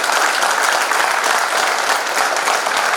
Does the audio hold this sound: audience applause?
yes